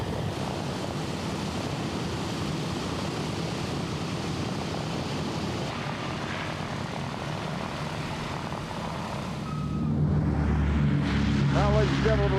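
Radial piston engines of a WWII B-17 Flying Fortress heavy bomber drone steadily at an airshow, a rough continuous roar that swells louder near the end as the aircraft gets airborne, with an announcer talking over it.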